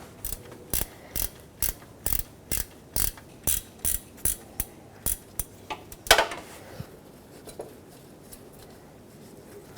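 A ratchet and socket loosen an alternator bolt on a 2008-2017 Buick Enclave, giving about fifteen crisp, evenly spaced ratcheting clicks up close, then a heavier clunk and quiet shuffling.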